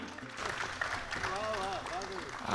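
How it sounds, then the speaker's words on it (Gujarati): An audience at a Gujarati kavi sammelan poetry recital in Nikol, Ahmedabad claps in a steady wash of applause, while a voice talks clearly over it throughout. "જોરદાર તાળીઓ"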